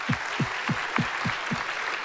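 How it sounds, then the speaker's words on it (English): Audience applause for startups at a business conference, clapping at a brisk rhythm with a few prominent close hand claps standing out over the wider crowd. "One more massive round of applause"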